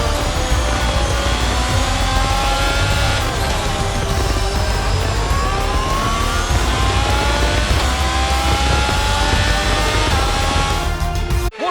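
A Haas Formula 1 car in the F1 22 racing game drives on after the race at the Singapore Grand Prix. Its engine whines loudly and continuously, shifting pitch as it revs and eases off, until an abrupt cut at the end.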